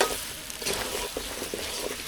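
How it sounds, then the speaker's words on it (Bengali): Peeled new potatoes sizzle steadily as they are sautéed and stirred in a pan for aloo dum, a close, continuous frying hiss with soft scraping strokes. "ভালো করে কষাই নেব।"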